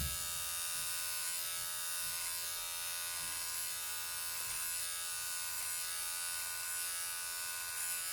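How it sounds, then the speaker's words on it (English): An electric hair clipper fitted with a number three guard trims a beard at home, giving a close, constant buzzing hum with no pauses for the whole stretch. "take the three first, three guard, turn on my clipper, and I'm gonna go downwards."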